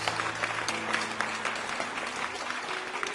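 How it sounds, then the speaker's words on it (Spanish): A church congregation gives God a loud round of applause during a Spanish-language sermon, with dense, steady clapping running throughout at a moderate distance over a faint low musical drone. "alguien dé un fuerte aplauso a Dios por esto."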